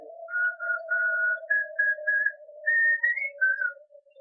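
A man whistles a slow, wavering tune in short phrases against a low steady hum, close and clear, in a quiet night scene of an audio drama.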